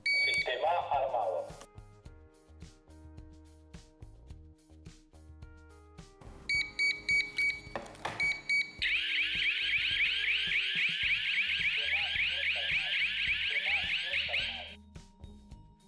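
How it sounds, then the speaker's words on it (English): Two home alarm sirens wail together, a loud, steady warbling tone holding for about six seconds before cutting off, preceded by shorter electronic beeps and chirps from the alarm system, with a low background hum throughout. "check how both sirens sound at the same time"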